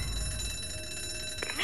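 A rigged alarm bell rings in the ZOMBI video game, a sustained metallic ringing across the whole moment that swells louder near the end, with no talking.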